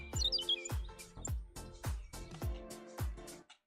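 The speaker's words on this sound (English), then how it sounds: "You hear those birds, Michelle?" Birds chirp outdoors in a quick run of about seven sharp, evenly spaced calls, fairly close and clear with no voices over them, ending abruptly.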